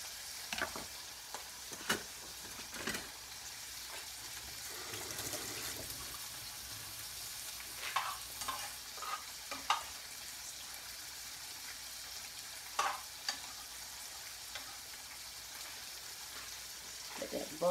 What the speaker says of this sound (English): Let that butter melt down a little bit.